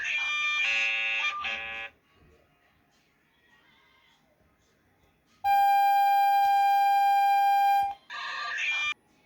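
South Korean emergency alert alarm: a shrill buzzing tone blares for about two seconds, falls silent, then a steady high beep sounds for over two seconds before the buzzing returns briefly at the end.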